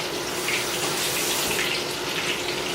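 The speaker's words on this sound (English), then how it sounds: "So I'm going to mix this with a little water, because you got to mix it," Tap water runs in a steady, full stream from a faucet for adding to a fish puppies batter mix, close and continuous with no pauses.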